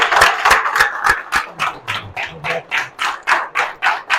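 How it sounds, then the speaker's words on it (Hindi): An audience claps at a seminar on follow-up training in network marketing, a steady rhythmic applause of distinct, close claps, loud and without voices. "भरपूर तालियां।"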